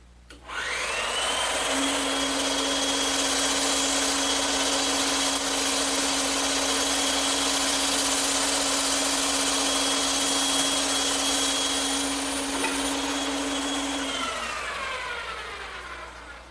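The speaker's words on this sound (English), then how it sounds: "take it over to the bandsaw, and cut out the curved portions using a 1/4-inch blade set up in the saw" A bandsaw fitted with a 1/4-inch blade cuts curved portions of a wooden Adirondack chair part, a steady loud motor whine with a constant high tone that holds for most of the cut before winding down, no voices.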